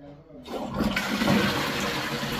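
A water-saving Japanese toilet flushes, a sudden rush of water that swells and keeps pouring steadily, close by.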